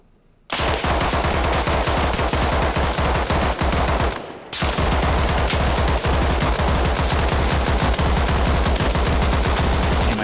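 Sustained automatic gunfire in Arma Reforger, a long dense rattling burst that breaks off briefly and then resumes just as loud and continuous, close and dominant.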